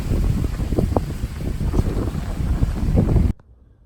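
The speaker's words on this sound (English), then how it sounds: "Super windy still, but looking good, and it's surviving this crazy wind" Strong, gusty outdoor wind buffets the microphone in loud, rough rushes around a backyard Grinch Christmas light display, then cuts off abruptly near the end.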